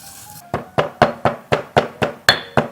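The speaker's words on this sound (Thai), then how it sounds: "เราจะนำลูกผักชีกับเม็ดยี่หร่าเนี่ยครับนำมาโขลกให้ ละเอียดได้เลยครับ" Coriander seeds and cumin seeds are pounded in a mortar with a pestle, ten sharp, evenly spaced thuds in quick succession, loud and close, with no speech.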